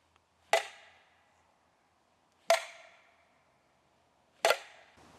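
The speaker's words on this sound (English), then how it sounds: "we're going to try a tree knock" Wood struck against a tree in a Florida citrus tract at night, three sharp, loud knocks evenly spaced about two seconds apart, each ringing out briefly in otherwise quiet surroundings.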